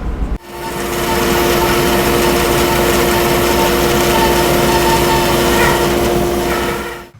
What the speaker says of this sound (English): I've got a nice sharp blade on it. And I'm going to be cutting 5/32 of an inch off of here.